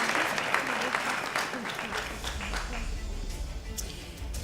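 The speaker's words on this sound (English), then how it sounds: "So let's give them a round of applause." Audience at an awards gala for young entrepreneurs breaking into a round of applause, a full burst of clapping that is strongest at first and then thins out over a few seconds.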